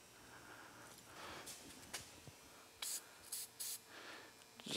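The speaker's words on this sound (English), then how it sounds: "Just going to spray a little penetrating" Penetrating fluid sprays from a can in several short hissing bursts onto a corroded brake part of a Polaris ATV, close and fairly quiet against faint workshop background.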